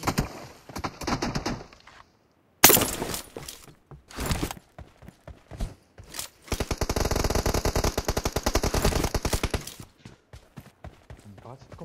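PUBG Mobile team deathmatch gunfire: several single shots at first, then a long rapid automatic burst, each report loud and close.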